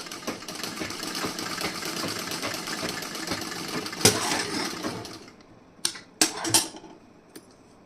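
A sewing machine stitches blouse fabric in a steady, rapid mechanical whir for several seconds, then stops, followed by a few separate clicks and handling knocks.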